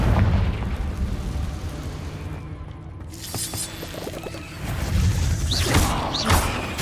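Explosive bursts and crackling magic blasts from the Confringo fire spell in Hogwarts Legacy, loud and dense, rumbling continuously with a brief lull midway before another burst and whooshing effects.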